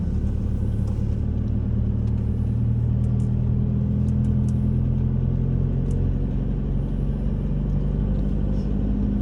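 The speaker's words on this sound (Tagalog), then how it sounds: "Tricycle nila is regular lang din naman." A motorized tricycle in Aparri in the northern Philippines passes with a steady low engine rumble and road noise, a continuous drone that holds fairly even with faint clicks above it.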